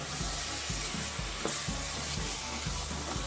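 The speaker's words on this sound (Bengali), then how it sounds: "ভালো করে এটাকে মাখিয়ে নিচ্ছি মশলার মধ্যে" Bottle gourd is stirred into a sizzling fish curry spice mix in a pan, with a steady close frying hiss under rhythmic scraping strokes about twice a second.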